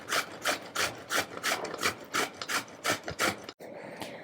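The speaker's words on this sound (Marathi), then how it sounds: "तर आता हा जो दुधी आहे तो मी किसून घेते" Fresh bottle gourd (dudhi) rubbed against a hand grater in steady, rhythmic rasping strokes, about a dozen even scrapes close up with no voices.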